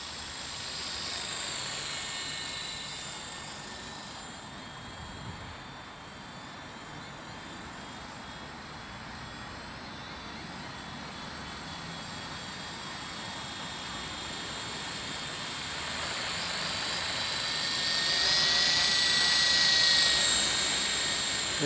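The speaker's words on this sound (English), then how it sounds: "she's a nice copter, that one. It flies very well." Sky Dancer single-blade toy helicopter flying outdoors, a continuous high whine that shifts in pitch as it moves, rising and nearing toward the end; no talk over it.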